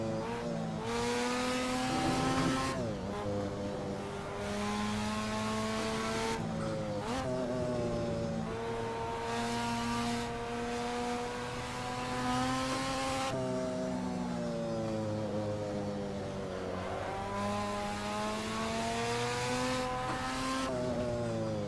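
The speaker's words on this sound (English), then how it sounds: "I'm super impressed with how torquey this this NA rotary sounds" A naturally aspirated rotary-engined JDM race car in Assetto Corsa at the Nordschleife, heard as a continuous loud buzzing engine note that rises and falls through shifts and throttle changes, with faint tire noise and no talking.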